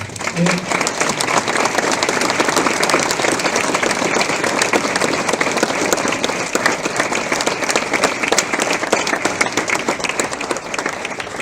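A large audience at a conference presentation applauds a group of economists with loud, sustained clapping that carries on steadily for over ten seconds, dense and even throughout.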